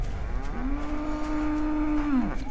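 A single long, steady moo from a cow in the video game The Cows are Watching rises, holds for over a second and falls away, loud and close over a low hum.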